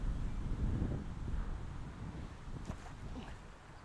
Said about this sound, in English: Normally I'd throw a mid here that's a little more stable because we got so much wind